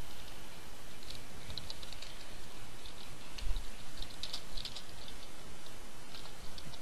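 Keys on a computer keyboard are tapped in a quick, uneven run of light clicks during a game, close and moderately quiet over a steady background hum, with no one talking.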